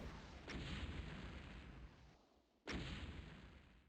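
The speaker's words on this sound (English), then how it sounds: "Dante's doing a really good job of predicting where Lang's going to be with the rockets" Rocket launcher explosions in a Quake duel tournament match: two sharp, booming blasts about two seconds apart, each fading out in a long rumbling decay.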